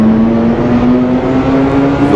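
A ZiU 9 trolleybus in a driving simulator game pulls away under full throttle, its steady electric motor whine rising slightly in pitch over a constant, loud rolling drone, with no talking.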